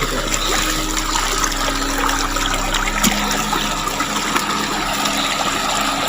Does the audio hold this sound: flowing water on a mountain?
yes